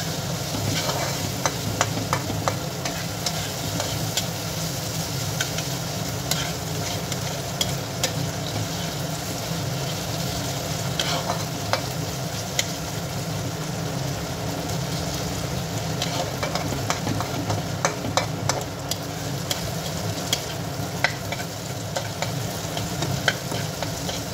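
Onion and ginger paste stir-fries in hot oil, giving a loud, steady sizzle with continuous scraping stirs for the whole stretch and no talking.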